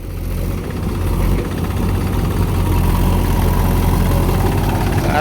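A JCB excavator's engine runs during a rescue of a stuck tractor, a loud, steady low rumble that holds close and unbroken with no talk.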